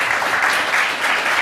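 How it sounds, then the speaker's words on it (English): Audience applause at the close of a talk at the Sustainable Blockchain Summit at SXSW, a dense steady wash of many hands clapping, loud and continuous without a break. "once more, a round of applause for Juan, Clara, and Alan."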